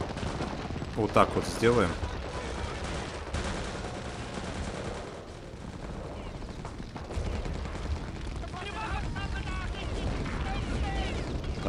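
Gunfire in Wolfenstein set in Stalingrad, with a sniper at work, comes as sharp shots and bursts over a constant battle din, while someone talks briefly.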